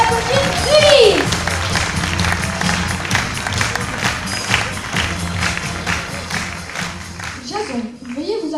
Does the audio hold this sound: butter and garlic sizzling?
no